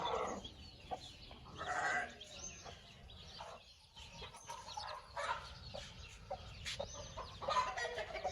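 A yellow Aseel hen clucks near a brood of ten newly hatched chicks, with soft clucks and faint high peeps scattered through a quiet farmyard scene, plus a few brief louder calls.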